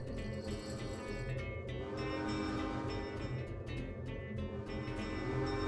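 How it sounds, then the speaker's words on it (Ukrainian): A Dota-like teleport portal in a Roblox game hums with a sustained, train-like tonal drone, steady and fairly loud, with faint clicks and flickers over it. "Це звук телепорту з доти."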